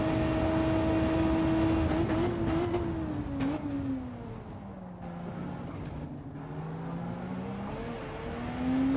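Race car engine in Gran Turismo 7 on a flying lap, a loud close whine rising and falling as the car shifts, brakes and accelerates through corners.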